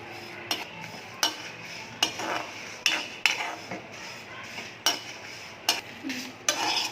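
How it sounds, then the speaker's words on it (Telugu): Sesame seeds, dried red chillies and cumin dry-fry in a pan, stirred with sharp, regular scraping clinks of a metal spoon against the pan, about two per second, close and fairly quiet with a faint crackle between strokes. "చూసారా, నువ్వులు ఈ కలర్లో ఫ్రై అవ్వాలి"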